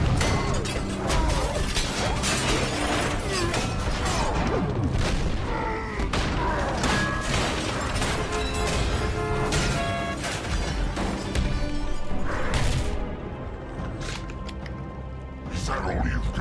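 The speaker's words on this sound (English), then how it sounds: "The final fight between Hulk and Abomination is pure chaos and destruction." Punches, crashes and smashing destruction in the street fight between Hulk and Abomination in the 2008 film, a loud, dense barrage of impacts and booms with a music score beneath, and speech mixed in.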